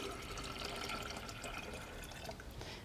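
Coconut water poured into a container for a homemade sports drink, a steady close liquid splash and trickle running throughout with no talking.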